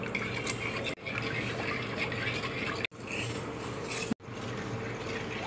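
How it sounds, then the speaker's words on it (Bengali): A spoon stirs powdered milk into lukewarm milk for a bread kalakand sweet, making close, steady rubbing and swishing in three unbroken stretches. "এবার দেখো দুধের মধ্যে আমি গুঁড়ো দুধ মিশিয়ে নিচ্ছি।"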